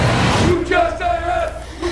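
Huge crowd of demonstrators massed in the streets of Algiers, protesting after the new president's swearing-in: a loud, dense roar of many voices with rising shouted cries, continuous and close throughout.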